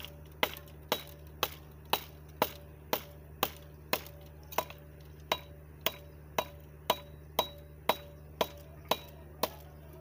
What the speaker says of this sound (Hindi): देखें लकड़ी इतनी मजबूत है टूट रही नहीं है बस टूटने लगी है